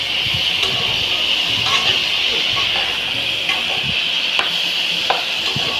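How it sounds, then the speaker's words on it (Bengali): Fish frying in oil at a wedding-house kitchen: a loud, constant close sizzle with scattered crackles and pops running steadily throughout. "এই যে মাছগুলো ভাজা চাপিয়ে দিয়েছি।"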